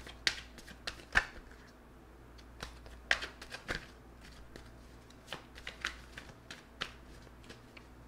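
Tarot cards are shuffled close up, with irregular crisp slaps and riffling snaps spread across the stretch, fairly quiet and with no talking.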